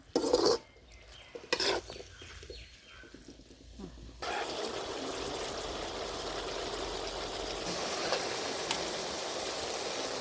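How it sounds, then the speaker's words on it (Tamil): Okra-tamarind curry base stirred and sautéing in a pan for a village-style puli kuzhambu, with a few sharp utensil scrapes and clinks at the start, then a steady, moderately loud sizzle that runs continuously to the end. "கிண்டிக்கிடுவோம் நல்லா கிண்டிக்கிடுவோம் போட்டதுக்கப்புறம் இது ஒரு அஞ்சு நிமிஷம் வதங்கட்டும்"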